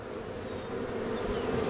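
Honeybees drone inside an open hive box as a frame is set in, a dense, steady buzz close by that swells slightly louder toward the end, with no voices.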